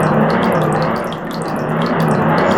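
Continuous rushing, bubbling water fills the scene in The Legend of Zelda: Ocarina of Time, steady and close throughout with no voices over it.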